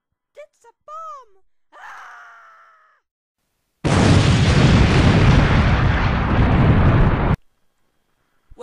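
A bomb explodes in a cartoon about a family travelling to space, a long loud roaring blast that holds steady for several seconds before stopping abruptly, after brief vocal squeaks and a groan.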